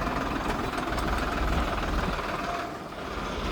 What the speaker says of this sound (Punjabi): ਹੁਣ ਆਪਾਂ ਕਰਦਾ ਲਿਆ ਟਰੈਕਟਰ ਸਟਾਰਟ